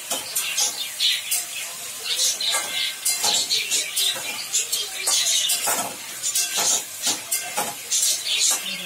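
Potato, onion and okra with green chilli and Kashmiri chilli powder hiss and sizzle loudly in a hot pan, with bursts of frying noise as the vegetables are stirred and tossed.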